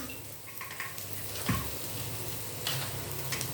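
Ingredients for a Salem mango gravy frying gently on a low flame, a soft steady sizzle with a few stirring scrapes and a light knock near the middle, quiet and close.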